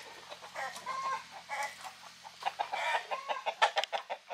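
Several chickens cluck and squawk in a busy, overlapping chorus that grows louder and more insistent toward the end, with sharp bursts close by.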